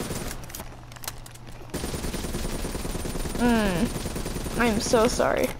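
Video game gunfire bursts out amid loud game noise, with a short burst and scattered shots, partly under a player's apologetic speech.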